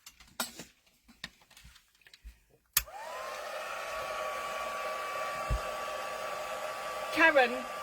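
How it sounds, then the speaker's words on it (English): A craft heat tool heat-sets stencil paste on a handmade card with a pink background, starting with a click and then blowing a steady, fairly close whirring rush, preceded by a few faint taps. "I am going to heat set that, so excuse me while I put that heat tool on"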